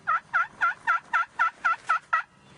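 Wild turkey gobbling during a youth spring turkey hunt, nine quick evenly spaced gobbling bursts in a steady rhythm, clear and fairly near with no talking.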